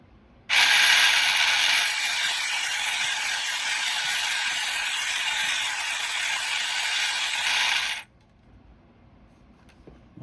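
A small motor on a Byjarda variety painting instrument runs on 3 volts, giving a steady, loud mechanical whir with a ratcheting buzz that starts abruptly, holds for about seven seconds, then cuts off sharply.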